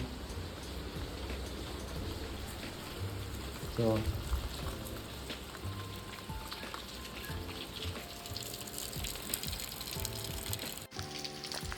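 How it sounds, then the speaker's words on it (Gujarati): Steady rain falls outside at night around three in the morning, a continuous close hiss of drops pattering on surfaces throughout, with someone speaking briefly over it. "વરસાદ આવે છે અત્યારે"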